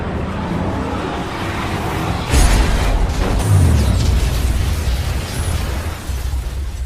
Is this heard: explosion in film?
yes